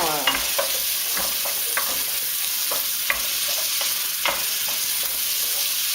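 Garlic and onion sautéing in a pot for couscous give a steady sizzle, with a spoon scraping and stirring in scattered strokes that stand out over the frying.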